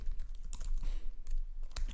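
Rapid typing on a computer keyboard while coding C++ classes, a steady run of close, crisp key clicks with a few louder strikes, no voices.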